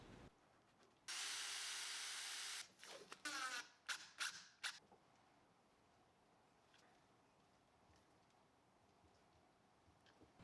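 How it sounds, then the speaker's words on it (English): A power drill bores holes into the underside of an end grain checker cutting board for rubber feet, giving one loud, steady whine of about a second and a half followed by a few short stop-start bursts, then quiet. "then I'll drill at the X"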